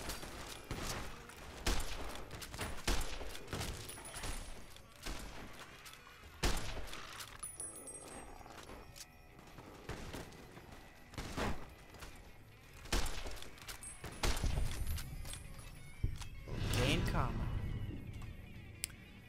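Game gunfire in Fallout New Vegas during a fight in Goodsprings: a run of sharp, loud shots and impacts spaced irregularly across the scene, with speech over much of it.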